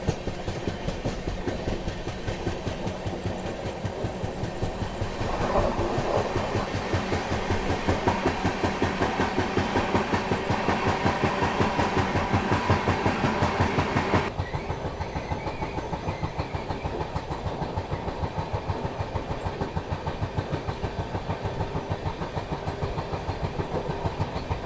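The Kongu Express passenger train running on the rails while overtaking a freight train, a continuous loud rumble with rapid rhythmic wheel clatter that swells midway and then eases back to a steadier run.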